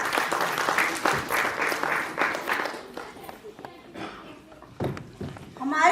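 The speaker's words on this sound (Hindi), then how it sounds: "तो इनका जोरदार तालियों से स्वागत कीजिए" An audience gives applause to welcome the artists at a staged play, loud and steady clapping that fades after a few seconds, with a few scattered claps and rustles following.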